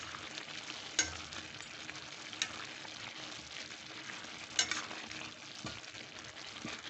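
Semiya (vermicelli) upma cooks in a pan while it is stirred. A steady, soft sizzle hisses throughout, broken by a few light spoon knocks against the pan.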